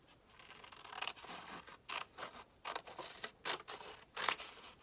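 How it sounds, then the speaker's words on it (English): Scissors cutting paper for a simple black-and-white cat art project: close, crisp snips repeating in an uneven rhythm over quiet room tone. "now I'm going to cut off this extra rectangle right here"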